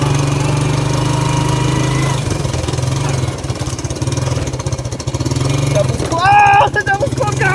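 Suzuki Quad Runner LT185 ATV engine droning steadily while riding through brush, loud and close, with a voice speaking over it.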